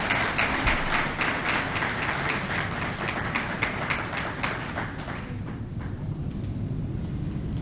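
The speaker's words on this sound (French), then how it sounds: "Sous vos applaudissements." An audience at a formal event bursts into applause, with dense, continuous clapping that holds fairly loud, then thins out toward the end.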